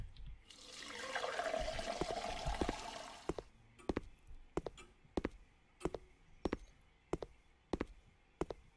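Tap water runs in a video game, a steady rushing stream for about three seconds before it stops, followed by a series of sharp, evenly spaced clicks.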